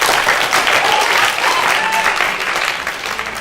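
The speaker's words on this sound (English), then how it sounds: "Everyone give them a round of" A room full of people gives a sustained round of applause after a presentation, loud steady clapping that slowly tapers near the end, with no voices on top.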